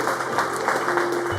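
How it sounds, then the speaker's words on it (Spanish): A church congregation claps for the risen Lord in a short, dense burst of applause that fills the room evenly from start to finish, with a faint steady hum underneath. "Le damos un aplauso al Señor resucitado."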